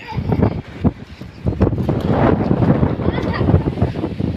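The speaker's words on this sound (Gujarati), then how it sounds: "ભારે પવનની સાથ બે ત્રણ છાંટા આવે" Strong wind roars and buffets the microphone in heavy gusts, with a muffled voice faintly underneath.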